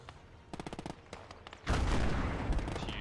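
A tank gun fires a wallbang shot in the Gates of Hell World War II strategy game: a run of rapid, sharp gunfire cracks, then one loud close boom whose rumbling roar holds to the end. No one speaks.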